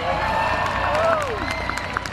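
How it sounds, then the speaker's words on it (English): Outdoor crowd at a Delaware Speedway strongman show, a broad steady wash of cheering and clapping with scattered whoops, sustained throughout under a faint voice. "How about cheer him on, folks?"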